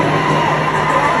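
A dense concert crowd cheers and shouts continuously at a live performance in Baltimore, a loud, sustained roar of many voices with no single speaker standing out.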